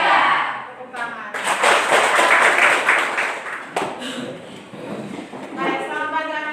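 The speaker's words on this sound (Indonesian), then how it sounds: "Tepuk tangan." Children clapping their hands together in a group, a dense patter of claps that swells and holds for several seconds, with voices speaking over it at the start and end.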